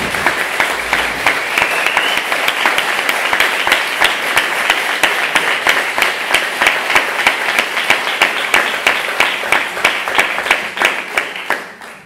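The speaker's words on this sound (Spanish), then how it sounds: "Yo antes de eso daría un aplauso a estos chicos" An audience at a short-film screening and discussion applauds the film's young cast, with a long, even run of crisp clapping that holds steady before tapering off at the very end.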